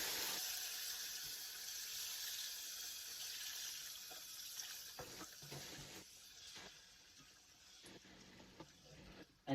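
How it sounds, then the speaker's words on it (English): Beef broth poured into a pan of browning fried neckbones for gravy, a steady faint liquid stream with light sizzle and clinks, nearby and without talk. "I'm going to add me some of this beef broth to it."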